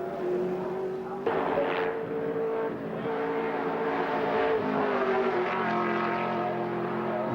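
A V8 Commodore touring car running at Mount Panorama, Bathurst, its engine note droning steadily with shifts in pitch as it drives, heard from a distance for several seconds under crowd and track ambience.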